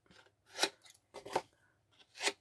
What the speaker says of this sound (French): On prend notre ciseau et on va venir couper à l'intersection de nos plis.